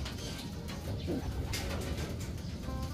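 A live racing pigeon cooing close by, soft low coos over a steady outdoor background hiss, no talking.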